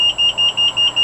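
Warning buzzer on a personal safety device with a wellness timer, sounding as a loud, close, shrill electronic beep pulsing rapidly and evenly, about five or six pulses a second.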